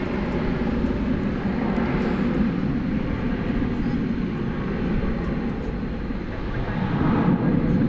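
An American Airlines airliner on runway 18 left at Dallas Fort Worth airport makes a steady, moderately loud engine rumble that swells slightly near the end, with a voice talking over it.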